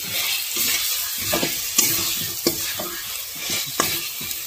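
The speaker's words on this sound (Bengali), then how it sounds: "এই যে কেটে রাখা কাঁচা আলু দিয়ে ভালো করে এখন কষাতে হবে।" Raw potato pieces being stir-fried in oil with cumin and coriander powder for a village-style chicken curry: a close, steady sizzle with a regular rhythm of spatula scrapes and light clanks against the pan.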